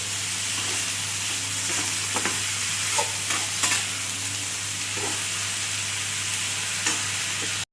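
Brinjal pieces fry in a hot pan with a steady, close sizzle and hiss, broken now and then by short scraping stirs, with no voices.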